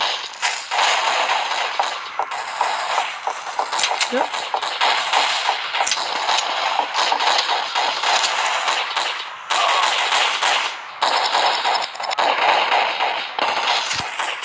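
Dense, rapid bursts of game gunfire crackle almost nonstop, loud and close, with voices talking over the shooting.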